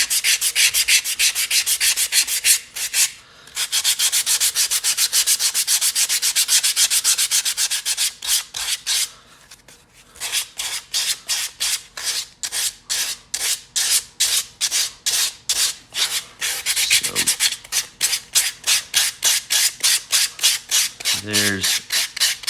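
Yellow foam is sanded by hand with 3M 220-grit sandpaper in fast, close, loud rasping strokes, first a long continuous stretch and then a series of separate back-and-forth rubs with brief pauses between them.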